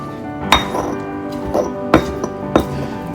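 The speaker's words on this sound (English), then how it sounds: "And what you want to do is mash that all up together." Avocado and cilantro mashed together for fresh guacamole, giving a few sharp knocks and clinks of a utensil against the bowl or mortar, spaced irregularly over a low steady background.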